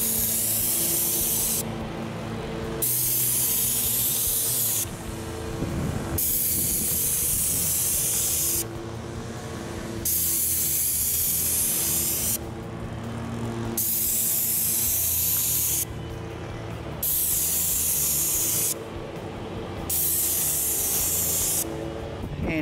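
High-sheen acrylic paint sprayed onto a house roof in Admirals Cove, Jupiter, Florida: loud, close, continuous airless spray hiss in long passes, broken by short regular pauses between strokes.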